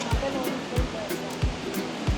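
A waterfall or fast river rushes steadily at a campsite, a dense continuous wash of water with brief low thumps every half second or so, heard up close without talk.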